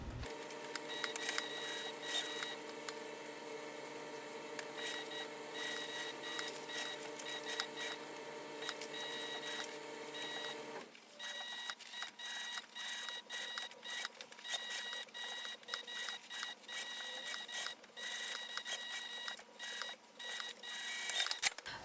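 A sewing machine stitches around the seam lines of a fabric train case: a steady, fast mechanical whir with rhythmic ticking that keeps going, changes tone halfway through, and stays fairly quiet with no talking.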